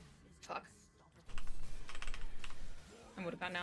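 Quick, uneven clatter of computer keyboard keys during a League of Legends match, fairly close and moderately loud, arriving in short bursts with brief pauses between flurries.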